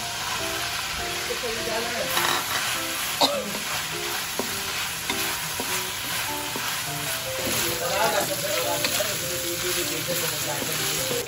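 Hotdogs sizzle and fry steadily in a pan for spaghetti, with stirring and a few clinks of the utensil against the pan throughout, no talking over it.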